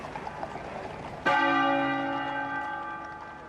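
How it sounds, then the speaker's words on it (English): The Sebastopol bell strikes once with a sharp clang, then rings on as a long, slowly fading toll, heard after a stretch of faint ambient noise at a chapel in Windsor during a royal funeral. "the Sebastopol bell tolled"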